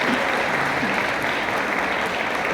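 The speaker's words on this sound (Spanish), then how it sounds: "Doctor, un aplauso, porque se lo merece" A medical academy audience gives a doctor a warm round of applause, steady dense clapping from a full room with faint voices mixed underneath.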